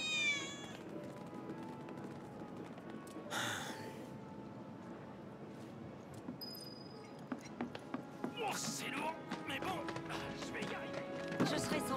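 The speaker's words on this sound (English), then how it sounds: "I heard a cat, too. Where is the cat?" Faint cat meows in Final Fantasy VII Remake Intergrade sound a few times, low in level beneath steady game ambience, soft clatter and a person talking.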